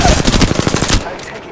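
Video game automatic gunfire cracks out in a rapid burst of about a dozen shots, loud and close, then cuts off into a fading tail.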